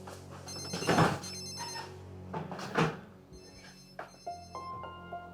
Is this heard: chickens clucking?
no